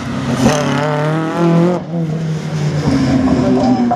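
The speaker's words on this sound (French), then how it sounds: "Et Dominique Hu en piste avec la Mégane Intersport." A loud rally car engine, a Renault Mégane, revs hard close by at a slalom event, its pitch climbing and dropping through gear changes as it races along.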